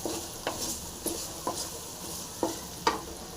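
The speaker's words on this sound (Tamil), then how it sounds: "கம்மியான தீயில் நல்லா ஒரு கால் மணி நேரம் நல்லா ஃப்ரை ஆகட்டும்" Bitter gourd pickle fries in oil on a low flame with a gentle steady hiss, broken by about half a dozen sharp scraping stirs of a spoon against the pan, close and quiet.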